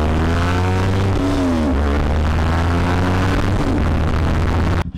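Motorcycle engine droning steadily underneath a ride, a low constant hum with wind rush, one brief pitch sweep mid-way, loud and close throughout before cutting off at the end.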